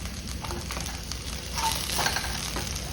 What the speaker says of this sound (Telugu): పచ్చిమిర్చి కొంచెం వేగనిద్దాము